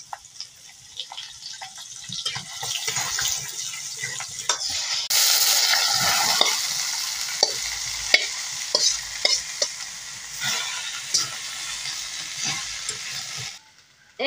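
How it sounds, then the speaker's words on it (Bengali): Dried red chillies and garlic fry with leafy greens in a pan, a loud continuous sizzle that swells midway, with scraping stirs and occasional clinks, close up and with no talk. "শাকের সাথে শুকনা মরিচ ভাজলে খাইতে ভালো লাগে, তাই আমি শুকনা মরিচটা আগে ভাজে নিব।"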